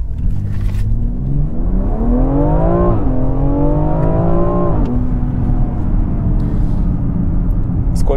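A BMW X4M F98 Competition engine revs hard under full acceleration on a slippery surface, its loud rising drone climbing through two gear changes before levelling off, heard close from inside the cabin.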